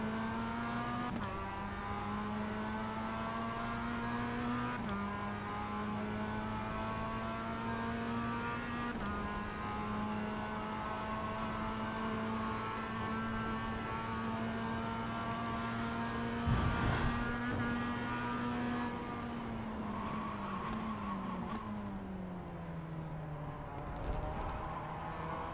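Race car engines in the iRacing sim game drone steadily throughout, a sustained pitch with clear harmonics that dips and climbs through gear changes, with no voices over it.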